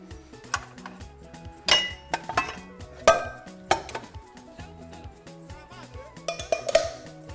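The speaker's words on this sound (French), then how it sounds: "On va prendre une casserole." Metal pots and pans clink and clatter in a home kitchen as a saucepan is pulled out, with several sharp ringing hits over a low, steady background.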